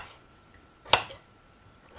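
A knife cuts through a potato on a board, two crisp chops about a second apart against a quiet background.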